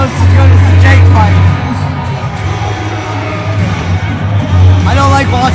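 MMA event crowd cheering and calling out after a cage fight, a dense roar of voices and whoops filling the arena, swelling near the start and end.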